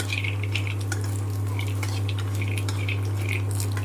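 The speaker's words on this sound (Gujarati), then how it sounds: "સિંગદાણાની કચાસ દૂર થઈ ગઈ લાગે છે ને જો અવાજ કરે છે, ફટફટ અવાજ કરે" Peanuts roasting in hot oil with garlic and chillies crackle in faint, scattered pops over a steady low hum.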